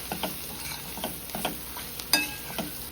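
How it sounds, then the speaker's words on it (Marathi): Garam masala and shahi biryani masala fry in oil while a spoon stirs with regular scraping strokes about every half second, close and moderately loud over a low sizzle. "आता छान आपण मसाले सर्व तेलावर थोडे परतून घेऊया एक मिनटं"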